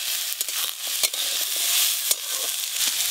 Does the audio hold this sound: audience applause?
no